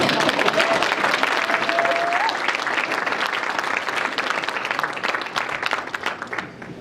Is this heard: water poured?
no